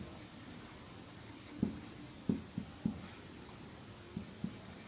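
Pen or pencil writing by hand on paper during a chemistry lesson on acids and bases, a handful of soft, short scratchy strokes at close range over a quiet room hiss.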